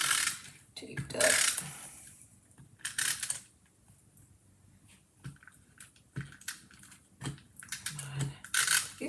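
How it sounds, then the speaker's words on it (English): A tape runner applied to craft paper at a papercraft desk, giving short intermittent clicking and ratcheting bursts with quiet gaps between them, close and fairly loud. "I used to love this tape runner, but he is not cooperating today."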